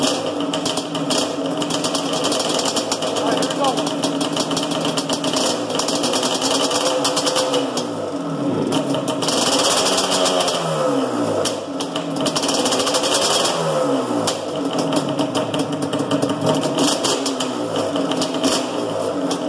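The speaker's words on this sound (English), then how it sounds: "when I connect this to the exhaust, it shuts off the Banshee" A Yamaha Banshee two-stroke ATV engine runs in a garage with a loud, buzzy rattling drone, its revs rising and falling in repeated sweeping surges over about twenty seconds.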